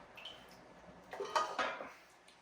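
Bits of beef tallow are scooped out of a slow cooker pan, making a few close, light scraping and clinking sounds of utensil against the pot, with quiet gaps between them.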